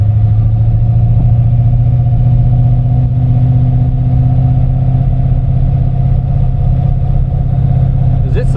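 A carbureted engine just tuned with a CFI Enforcer carburetor runs continuously at a steady, loud, close drone with a strong low rumble and no clear revving, and a slight rattle at the very end.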